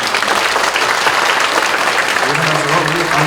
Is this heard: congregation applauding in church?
yes